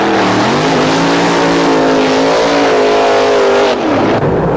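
A 1986 Datsun 300ZX drag race car accelerates hard down the strip, its engine note climbing steadily through a loud, sustained high-revving roar that drops off near the end.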